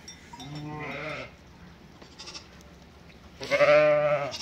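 Sheep and lambs bleat close by on a dairy-lamb farm, one long wavering call at the start, a quiet pause, then a louder, strained bleat near the end.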